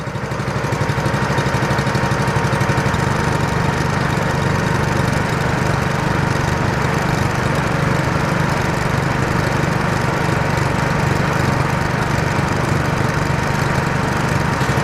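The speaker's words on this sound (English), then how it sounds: "Even though the pump has been sucking, it's now just at a standstill for some reason." A liquid transfer pump drones steadily as it draws chemical liquid through a hose from a tank, a loud, continuous motor hum with a rough mechanical rattle that holds without a break.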